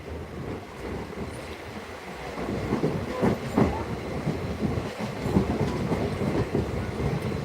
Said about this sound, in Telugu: అవతల పక్క ట్రైన్ వెళ్తుందా మనం ఉన్న ట్రైన్ వెళ్తుందా చెప్పండి